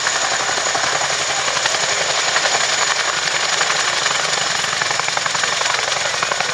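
A Chinook tandem-rotor helicopter performs at an airshow, its loud, rapid rotor chop thudding continuously over a broad engine roar, close and sustained throughout.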